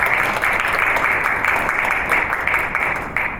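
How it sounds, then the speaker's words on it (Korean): Audience members at a National Assembly debate on gaming and academic achievement clap for a professor, a brief burst of applause that stays fairly even and fades slightly at the end. "교수님께 박수 한번 부탁드리겠습니다."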